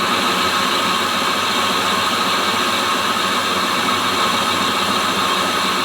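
A Hendey lathe threads a cut with a sharp 1/4-inch carbide triangle insert, giving a steady, continuous mechanical whir and grinding hiss at an even level throughout, with no pauses or talk.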